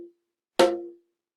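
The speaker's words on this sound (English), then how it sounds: "I'm going to see if I can do it with a drum beat here" A single drum hit, loud and close, rings briefly with a low tonal body, struck as an accompaniment to a children's rhythm-reading exercise; a faint tone precedes it and silence follows.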